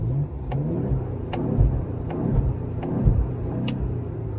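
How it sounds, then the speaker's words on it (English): Steady engine rumble of a Ford Explorer ST with Whipple intercooler and MBRP exhaust, a few sharp exhaust pops scattered throughout, heard from inside the cabin at moderate loudness. "some little pops and revs"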